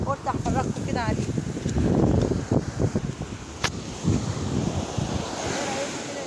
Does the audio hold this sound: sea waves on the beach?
yes